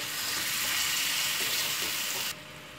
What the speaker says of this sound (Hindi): इसे मीडियम फ्लेम पर भूनेंगे।